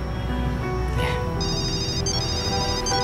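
A mobile phone rings for an incoming call, its electronic ringtone chiming in repeated high bursts that start after a second and continue, close and clear over a low background; no talking.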